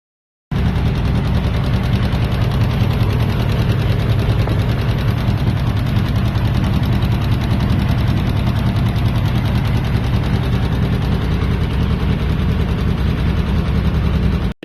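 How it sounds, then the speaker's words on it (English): A 1942 Ford GPW WW2 jeep engine, a barn-find under restoration with a ticking fault, runs steadily for about fourteen seconds, a loud close low rumble with a continuous rapid tick and no voices. "we tried to diagnose what this ticking noise is"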